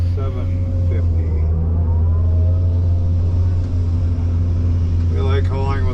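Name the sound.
tractor engine hauling wagons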